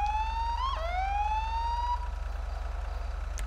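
A British-style police bike siren in GTA V wails loud and close, its pitch sweeping upward, dropping sharply, then climbing again over a steady low engine rumble.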